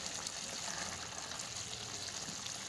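Water bubbling and simmering in a pan as a potato, peas and green bean sabji cooks down, a steady soft hiss and gurgle throughout with no talk.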